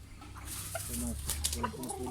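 Gamecock chickens cluck and call close by, a steady run of short bird sounds over constant background noise, with a faint voice mixed in.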